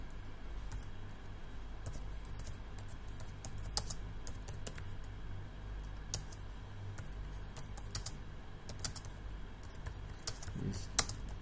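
Steady typing on a computer keyboard, with soft, irregular key clicks and occasional sharper taps continuing throughout at close range over a low background hum.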